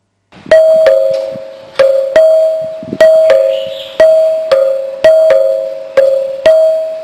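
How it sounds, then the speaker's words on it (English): A bright metallic chime rings repeatedly in pairs of struck tones, each note decaying slowly before the next strike, clear and close. "this is the combination of the temple bell and the school bell to create the modern day doorbell"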